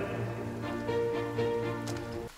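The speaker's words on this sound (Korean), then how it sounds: "뭐야, 비가 내리잖아." Rain falls in the survival video game The Forest as a soft, steady hiss under a droning tonal game soundscape. It cuts off abruptly at the end, with no speech.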